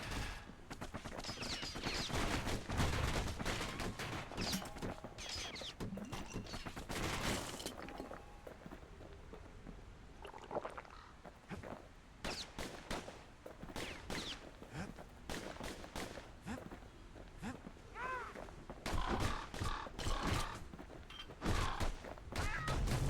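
Needle-shooting pincushion enemies in Bastion fire in rapid bursts of sharp, crackling shots with shattering impacts, dense and loud at the start and returning in scattered clusters later.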